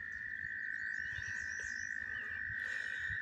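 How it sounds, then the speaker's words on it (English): A chorus of frogs croaks and trills outdoors by the water at Big Hill Park in Beloit, Wisconsin, a steady high-pitched trill over scattered low croaks, with no voices. "you can hear all those frogs and whatnot"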